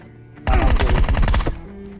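A Groza rifle fires in PUBG Mobile, a single rapid automatic burst of about a second, loud and close, between quieter game sounds before and after.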